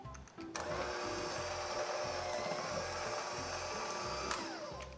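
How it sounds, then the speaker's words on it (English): An electric mixer whirs steadily as it beats butter and powdered sugar in a large bowl, starting up after a brief moment and running in an even, continuous drone. "use a electric mixer again and beat it until it's combined"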